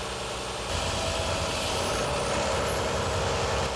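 Loud, steady roar of a Volvo truck under maximum engine braking with the stalk in the B position, a dense continuous drone with a faint high whine riding above it, with no talk.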